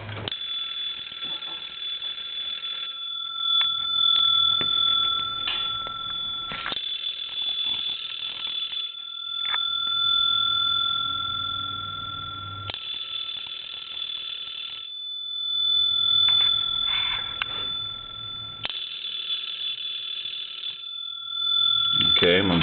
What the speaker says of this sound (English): and I'm going to ring the bell.